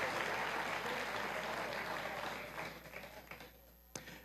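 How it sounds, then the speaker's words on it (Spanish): A church congregation applauding, a dense burst of clapping that fades away over a few seconds into scattered last claps, moderately distant. "Vamos a dar un aplauso al Señor."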